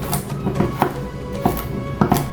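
A knife chops a peeled carrot on a cutting board, producing a series of sharp, close knocks at an uneven, unhurried pace with short pauses between them.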